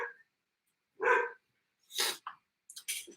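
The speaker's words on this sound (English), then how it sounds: "If you guys heard that, that's my dog." A dog barks a few times somewhere inside the house, short separate bursts with gaps between them, moderately loud and heard with no talking over it.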